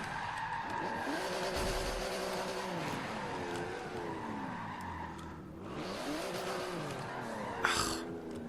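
A car in a modern racing video game skids with long, wavering tire squeals over a steady engine drone. The squeals swoop up and down repeatedly and close, with a sharp scrape near the end.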